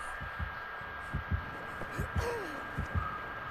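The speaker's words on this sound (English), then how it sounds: "She's close to me. I could hear the heartbeat." The killer's heartbeat warning in Dead by Daylight throbs as a steady, low double-pulse rhythm repeating about twice a second over a constant hum, with no talk.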